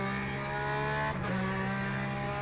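Race car engines in Le Mans Ultimate VR drone with a steady, sustained tone, loud and continuous, with a brief dip midway and no voices.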